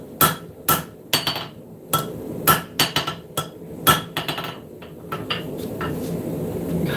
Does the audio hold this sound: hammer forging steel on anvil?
yes